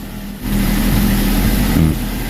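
A car's engine, just started while checking a soft brake pedal and high handbrake, settles into a loud, steady, close idle with a slight rise in revs near the end.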